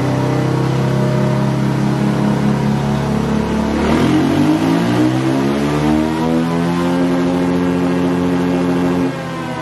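A KTM/Husqvarna 500 four-stroke dirt bike engine running a new ECU reflash, heard alone and close: a steady idle that climbs into a sharp rev around the midpoint, then settles back to a droning hold before cutting off.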